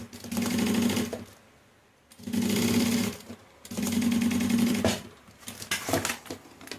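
A sewing machine stitches fabric for a waterproof roll-up toiletry bag in three loud close bursts of rapid, even whirring stitches about a second or more each, separated by short pauses, with lighter handling clatter at the end.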